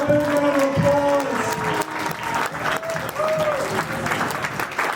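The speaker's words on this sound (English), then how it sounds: "Give them all a big round of applause." Loud applause and cheering from a convention crowd for the winners of a horror con cosplay contest, with whoops and raised voices mixed into the steady clapping.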